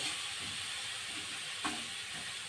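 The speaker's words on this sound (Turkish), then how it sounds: "Hemen yıkayıp da gördüğünüz gibi güzelce bulgurumu da kavuruyorum." Bulgur roasts in oil in a pan with a continuous soft sizzling hiss, faint and steady, with a brief stir or scrape near the end.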